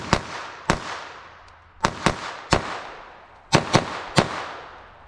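Eight sharp gunshots from a .38 Special revolver firing semi-wadcutter rounds crack out close and loud, spaced irregularly with some quick pairs, each followed by a short ringing decay.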